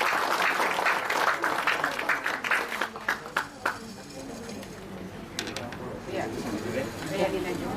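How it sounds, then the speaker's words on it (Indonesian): Audience clapping at a talk for a woman being introduced, a dense burst of claps early that thins out, with background voices and room noise. "Beri tepuk tangan dong buat Ibu Yuli."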